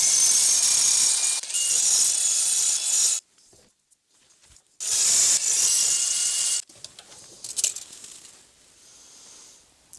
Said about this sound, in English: with this cylindrical grinding bit, I'll go ahead and clean it up the rest of the way.